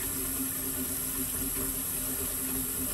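Hot water runs from a tap into a container for mixing a gallon of Dektol, a steady close hiss and rush with a faint low hum underneath and no talking.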